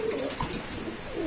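A pigeon at a market selling pigeons gives a brief, soft, low coo nearby against a background murmur.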